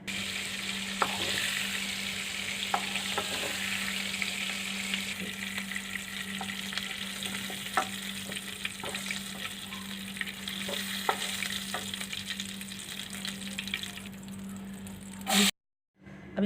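Soya chunks frying in hot oil, a steady close sizzle and crackle with scattered spatters and occasional stirring sounds, running continuously before cutting out near the end.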